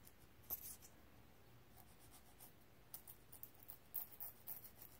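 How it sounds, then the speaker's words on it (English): An emery board files the plastic band of a pair of false eyelashes, making a faint, soft scratching rasp in short, uneven strokes that grow busier toward the end, with no talking. "I just file off that corner like that"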